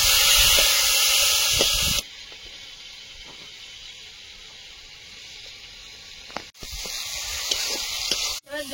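Water poured into a hot pan of curry with cumin powder for a Bengali bhola fish and eggplant mustard dish, a loud broad hiss for about two seconds that drops to a softer steady simmering hiss.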